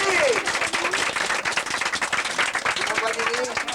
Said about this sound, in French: Mesdames et messieurs, je vous demanderai de l'applaudir très très fort.